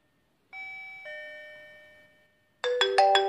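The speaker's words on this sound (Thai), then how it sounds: "สมมุติตอนนี้มีคนมาที่บ้านนะครับมากดกริ่ง" Digoo DG-XYA smart video doorbell chime ringing indoors, a clear two-tone ding-dong followed after a pause by a quicker burst of bright chime notes, alone without talk.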